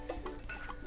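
A spoon clinks against a pan while stirring coriander powder into ground fish curry, giving a few light metallic taps up close with no talking.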